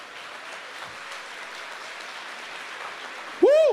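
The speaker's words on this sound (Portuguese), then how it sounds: "Pode aplaudir, pode aplaudir." Broad, even clapping from a congregation at a church camp, a moderate wash of many hands that runs steadily, then a loud, rising voice cuts in right at the end.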